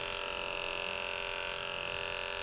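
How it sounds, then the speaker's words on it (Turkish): An electric clipper shaves a cat's fur before spay surgery, producing a steady, close buzzing hum that continues without a break. "Küçük bir tıraş önce."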